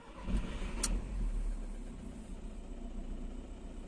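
Seat Alhambra 2.0 TDI diesel cranking hard after standing unused, a brief rough start with a sharp click, then a low, fairly quiet idle settling in.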